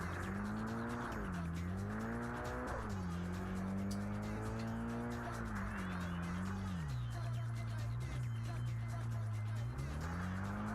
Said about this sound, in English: I do like the rain driving noises,